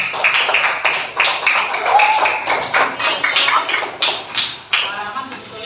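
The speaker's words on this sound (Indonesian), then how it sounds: "Tepuk tangan dong buat Rizky." Applause from an audience in a classroom or workshop session, a dense, continuous patter of clapping held for several seconds at steady loudness.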